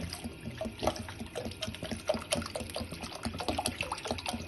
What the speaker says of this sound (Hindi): अब इसमें हम डाल देते हैं पानी और इसको अच्छी तरह जोश दिलाते हैं